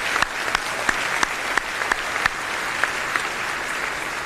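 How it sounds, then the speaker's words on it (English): Applause from a John Jay graduation audience fills the room in a steady, dense round, with several louder, crisp hand claps close by punctuating the continuous crowd clapping. "A round of applause for them, please."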